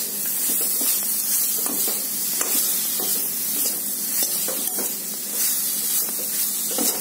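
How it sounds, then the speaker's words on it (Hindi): Chopped ridge gourd cooks in a hot pan with a little oil for a simple paneer vegetable dish, giving a steady, close sizzling hiss with faint stirring scrapes throughout and no talk. "अब तरोई डालेंगे।"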